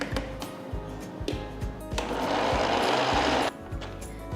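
A mixer grinder whirs in short pulsing bursts, then runs in one sustained louder grind for about a second and a half before dropping back to pulses, working chapati dough made from leftover rice, close up.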